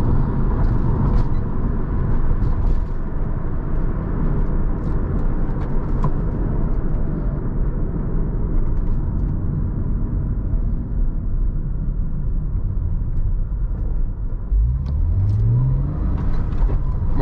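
A 2000 Porsche Boxster S convertible drives along at steady speed, its engine and road roar loud and constant from inside the cabin, with faint rattles from the soft top.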